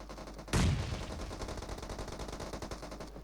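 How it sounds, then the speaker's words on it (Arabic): In a video game, a sudden burst of rapid automatic gunfire starts after a brief pause and continues as a fast, steady rattle of shots, moderately loud. "الولا ضرب فيه 300 طلقة"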